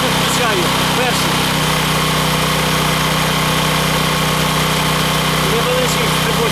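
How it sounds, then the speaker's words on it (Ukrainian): A Heron 3.5 kW single-phase inverter petrol generator runs at idle, a loud, steady engine hum with constant vibration and no pauses throughout. "Зараз на холостих працює."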